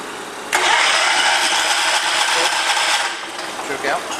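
A John Deere 210 lawn tractor engine with a rebuilt carburetor cranks and catches abruptly, then runs with a loud, rough, raspy mid-pitched roar for several seconds before the revs dip and waver near the end.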